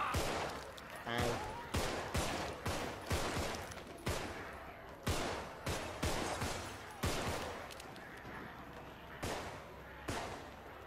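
Repeated gunfire in the co-op zombie game Contagion, sharp loud shots coming roughly every second in a steady irregular volley, each with a short echoing tail, with a voice briefly talking between shots.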